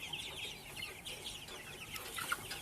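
White-egg layer hens cluck steadily together on a poultry farm, a dense, close chorus of short overlapping clucks with no talk.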